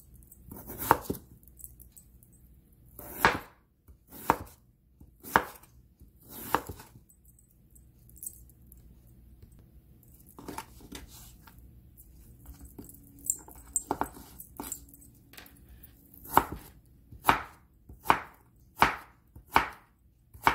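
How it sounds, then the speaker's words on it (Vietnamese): A knife chops beef into short thin strips on a cutting board, sharp distinct strokes coming singly and in quick runs of three or four with pauses between. "đoạn cắt sợi ngắn ngắn như thế"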